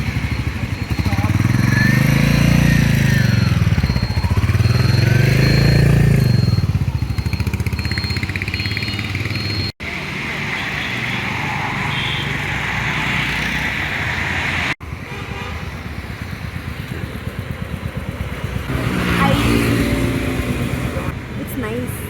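A motorcycle engine running close by, loud and steady with rising and falling revs, people talking over it throughout.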